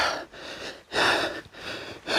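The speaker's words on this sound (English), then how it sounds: "Sorry about the panting again" Heavy, rhythmic panting from a person hill walking in the Quantock hills, loud and close, with several deep breaths in and out at regular intervals and no talk.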